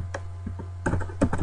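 Computer keyboard typing during an After Effects tutorial, a few quick key taps followed by two short bursts of clicks close to the microphone over a steady low hum, with no talking.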